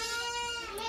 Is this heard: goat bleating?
yes